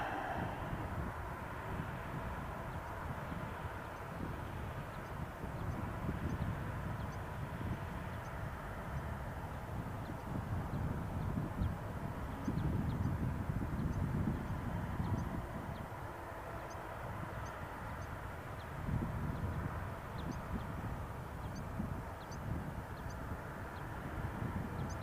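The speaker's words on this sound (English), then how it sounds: "Jetstar 233 from Auckland." A Jetstar airliner arriving from Auckland at Christchurch Airport gives a steady, rumbling engine roar that swells gently and stays moderately distant, with some wind noise over the long pass.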